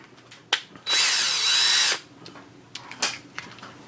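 A cordless power drill's self-tightening chuck motor whirring to clamp down on a drill bit, one loud steady whine lasting about a second, framed by quieter clicks and handling taps close by.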